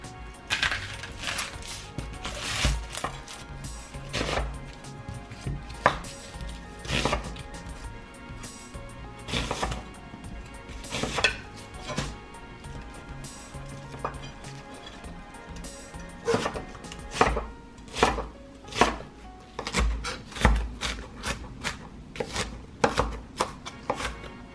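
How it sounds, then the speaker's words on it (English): An onion being chopped with a knife on a board for chicken albondigas, with a long run of crisp, irregular chopping taps that grows quicker and louder toward the end, close up with no talking. "And now the onion."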